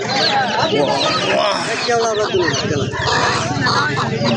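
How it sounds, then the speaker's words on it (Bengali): A red rooster clucks at a weekly rural village market in Madanpur, Netrokona, half-buried in a loud, dense crowd of voices and people talking close by. "এখানে দেখতে পাচ্ছি অনেক সুন্দর একটা লাল মোরগ"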